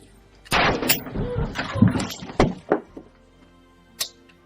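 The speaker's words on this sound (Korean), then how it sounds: "그 순간 그녀에게 총 4발의 총을 발사 사살하는 스미스" A burst of several loud, sharp gunshots, about four, fired in a basement during a Minnesota home shooting, heard in a real incident recording: dense overlapping blasts, then two more distinct cracks and a final isolated bang after a pause.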